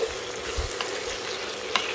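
Salted chicken for Chettinad uppu kari stirred and fried in a pan, a continuous close sizzle with soft scraping and a small clink near the end.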